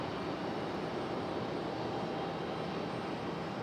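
Aeromexico Connect airliner departing Raleigh-Durham for Mexico City, a faint, distant and steady engine drone that stays constant without voices.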